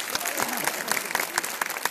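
An audience at a motivational seminar claps in a quieter, somewhat scattered burst, distinct individual claps standing out over a low murmur of voices.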